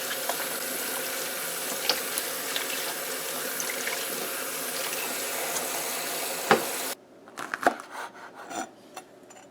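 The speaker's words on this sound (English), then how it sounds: "leafy stuff you have to wash thoroughly, and these grow close to the ground as well, so they tend to have sand in between the leaves" Leafy greens are washed under a running tap to rinse out sand, with a close, continuous splashing of water that stops abruptly, followed by a few soft handling knocks and rustles.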